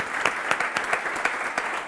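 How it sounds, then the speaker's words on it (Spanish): Audience clapping steadily and fairly loudly throughout, a dense wash of many hands with no voices over it, at a talk about pedestrians and street mobility. "Yo creo que nos merecemos un aplauso por reconocer que somos malos"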